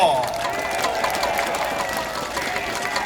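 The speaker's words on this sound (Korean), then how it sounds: "약속 잘 지켜주시라고 더 큰 박수로 응원해 주십시오" Applause from a crowd at an outdoor political campaign rally, a sustained dense patter of clapping with voices mixed in throughout.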